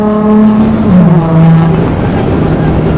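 A drift car spins out at a drift event, its engine note sliding downward under a sustained tire squeal, loud and close, with no talk.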